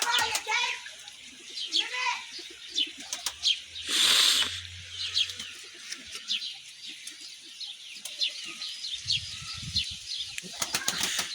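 A pigeon's wings flap in a brief loud burst as it moves toward its newly hatched chicks, with chirping young birds around and people talking throughout.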